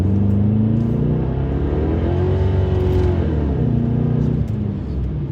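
A 4-liter V8 Infiniti Q45 accelerates on a wet road without full throttle, its engine note climbing in pitch and then easing, a loud steady drone heard from inside the car.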